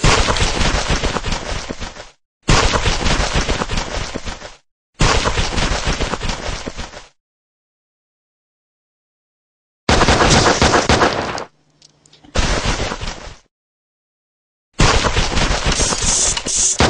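Gunfire in the mobile shooter Save Dan: loud, close bursts of rapid automatic fire lasting a couple of seconds each, separated by short silences, with no voices.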